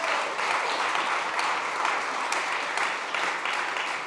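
Sustained round of applause from a summit audience at SXSW, steady dense clapping throughout with no voices on top.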